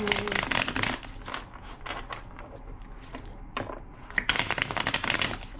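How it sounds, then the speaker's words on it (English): Tarot cards are shuffled in several quick riffling bursts, crisp fluttering rattles separated by short pauses, close to the microphone. "Two more shuffles."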